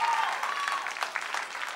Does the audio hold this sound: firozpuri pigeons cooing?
no